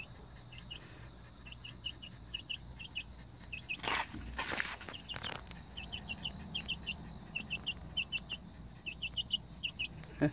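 Chickens cluck in short, repeated bursts throughout, fairly close, with a brief rustling or handling noise partway through and no talking.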